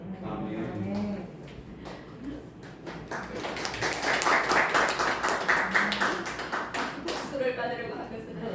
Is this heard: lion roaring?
no